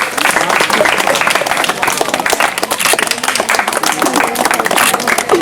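Students receiving prizes at a school event are greeted with loud, sustained applause, with dense clapping from a nearby crowd carrying on throughout and some voices faintly underneath.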